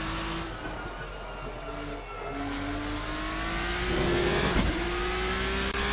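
A race car engine in Assetto Corsa at Paul Ricard revs loudly and steadily, its pitch climbing through the gears with a brief shift dip, a continuous close roar with no talking.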